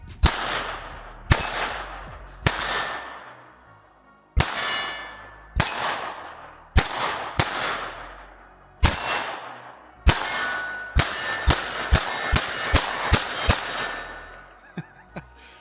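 Taurus TX22 .22LR pistol fired one-handed at steel targets in the cold, each sharp shot followed by a ringing metallic clang, spaced at first and then coming in a quicker rapid string near the end.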